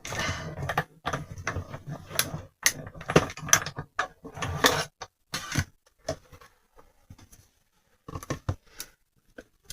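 Cardstock being fed through a die-cutting machine, an irregular run of close clicking, ratcheting and grinding mechanical sounds that thins out and turns sparse toward the end.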